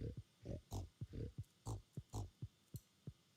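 Pigs on a Stardew Valley farm give short, low grunting oinks, about a dozen quick bursts at an uneven pace, fairly quiet and without talk.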